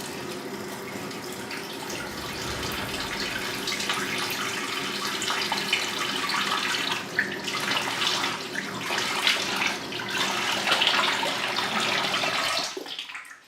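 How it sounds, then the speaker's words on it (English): A bathroom sink tap runs in a steady close gush while someone washes their face, with faint splashing and shifting water sounds before the flow cuts off abruptly at the end. "Let me wash my face."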